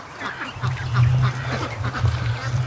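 Muscovy ducks quack in a barn, a steady cluster of low, overlapping calls close by, with louder bursts recurring through the stretch and no talking.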